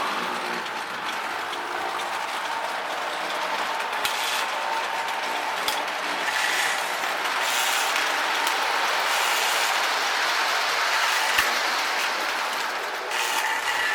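A steady mechanical whir and rattle of a model train running continuously along its track, with faint clicks now and then.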